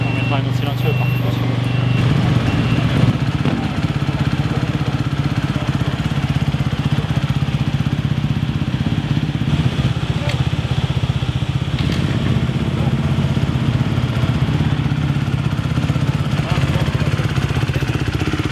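Supercross motorcycle engine running at a steady idle during technical inspection, a loud, continuous mid-pitched drone throughout, with people talking close by over it.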